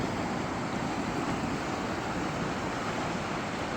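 The Gauja river rushes over its rapids at Valmiera, a loud, unbroken broadband roar of churning water heard up close with no voices.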